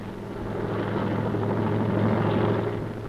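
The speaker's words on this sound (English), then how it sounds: "It was an enormous task that these helicopters had to perform." Military helicopters flying during a river-crossing airlift, a steady loud rotor drone with a low throbbing hum that holds constant throughout, no voices.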